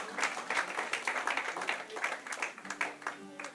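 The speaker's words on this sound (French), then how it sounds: "on peut les applaudir, les encourager" Scattered hand clapping from a church congregation welcoming baptism testimonies, fairly quiet and irregular, with a few voices faintly underneath.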